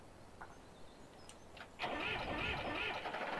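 Tractor engine in Farming Simulator 17 cranking and catching at about the two-second mark, then settling into a steady, fairly loud rumbling idle after a few faint clicks.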